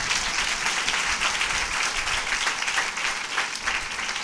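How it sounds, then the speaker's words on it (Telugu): Congregation clapping during a Sunday church service, a dense continuous burst of many hands applauding together at steady strength for several seconds. "చప్పట్లు కొట్టి దేవుని మహిమపరుద్దాం."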